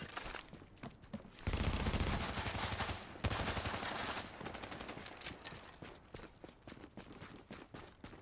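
Sustained automatic gunfire and overlapping shots in The Division during a Last Stand match, a dense loud fusillade in the middle with scattered bursts trailing off around it.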